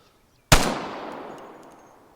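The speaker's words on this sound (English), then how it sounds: "this is me taking a couple of guessing shots" A single loud rifle shot from the video game Vigor, a sharp close crack followed by a long, fading reverberant tail and no speech.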